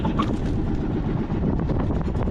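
Strong wind at sea buffets the microphone in a continuous low roar, with a boat's rumble faintly underneath.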